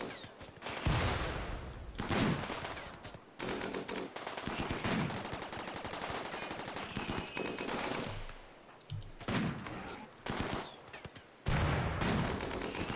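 Rapid video-game gunfire from Rimworld, bursts of machine-gun fire and single shots crackling in clusters with short gaps between volleys, loud and close, no talking.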